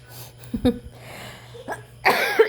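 A couple of short, harsh coughs close to the mic, with a louder burst of coughing near the end over quiet background hum.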